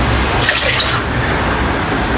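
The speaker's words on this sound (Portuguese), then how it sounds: "240 ml de água." Water, 240 ml, poured into the pan of a Mondial Master Bread NPF-53 bread machine, a steady, loud splashing stream throughout.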